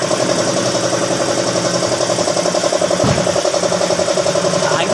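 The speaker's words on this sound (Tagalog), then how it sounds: "paanda rin na natin yung makina." A Nissan Sentra engine turns over and settles into a steady, loud idle with a regular rhythmic chug close by.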